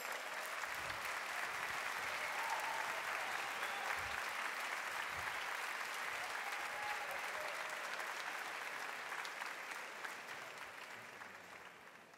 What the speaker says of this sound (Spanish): Jepe, por favor, un fuerte aplauso para recibirlo.